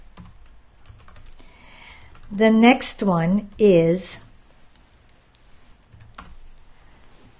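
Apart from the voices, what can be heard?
typing on a computer keyboard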